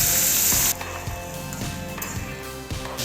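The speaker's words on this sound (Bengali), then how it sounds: "এবার আমি এর মধ্যে পেঁপেটা ছেড়ে দিচ্ছি। এবার ভালো করে পেঁপেটা ফোড়নের সাথে নাড়াচাড়া করে দেব।" Raw papaya pieces drop into hot oil with spice tempering and green chilli, giving a loud burst of sizzling that settles into a steady fry with scraping and stirring clinks.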